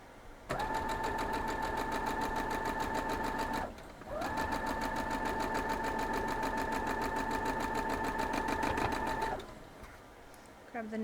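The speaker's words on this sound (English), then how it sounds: "we're going to head over and sew those up" A sewing machine stitches cotton quilt pieces in two long, steady runs of fast, even whirring with a high motor whine, broken by a brief stop, close and loud with no talking.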